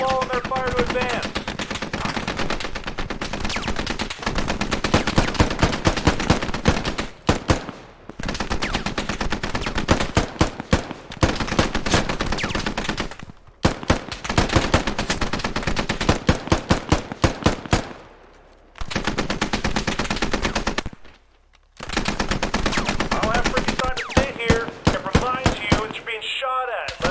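Heavy automatic gunfire in the military shooter game Squad, long loud bursts of rapid shots with short lulls between them, and voices talking underneath.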